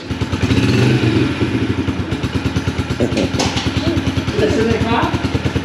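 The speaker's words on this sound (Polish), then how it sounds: "Chcesz sobie gazu dodać troszkę?" A small Yamaha motocross bike engine idles and revs in bursts with a steady buzzing drone, close by, with clattering mechanical noise throughout.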